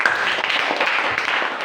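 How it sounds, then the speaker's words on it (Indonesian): Hands clapping together as a group, dense and steady for under two seconds with a faint voice mixed in, in a classroom practice lesson about sit-ups. "Tepuk tangan dulu."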